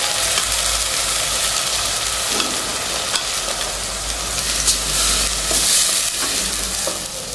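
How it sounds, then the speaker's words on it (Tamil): Onion and spice paste sizzle and fry in oil in a pan over low heat, with a steady crackling hiss and occasional stirring scrapes throughout. "ஒரு 2 நிமிஷம் வதங்கட்டும்."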